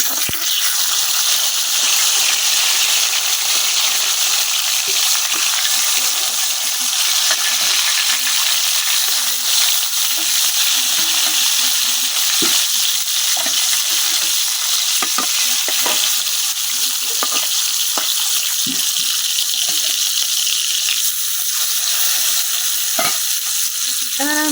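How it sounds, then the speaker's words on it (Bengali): Fish sizzling in fully heated oil in a village kitchen, a steady loud crackle and hiss throughout with scattered pops and spatters, no talking. "আমার তেলটা কিন্তু পুরোপুরি গরম হয়ে গেছে। এখন আমি দিয়ে দিতেছি মাছগুলা।"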